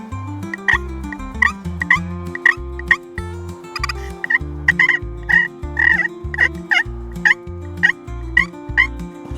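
A slate friction call imitating wild turkey hen calls and young-turkey yelps during an autumn turkey hunt: a loud, close, steady series of short, high, repeated calls over a sustained low droning tone.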